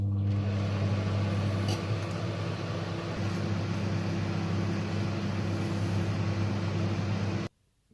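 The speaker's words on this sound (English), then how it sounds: "the chocolate needs to be melted in the microwave" A steady low hum of a microwave oven melting chocolate, with a constant drone, then cutting off abruptly near the end.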